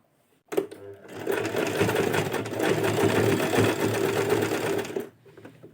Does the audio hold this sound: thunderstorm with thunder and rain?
no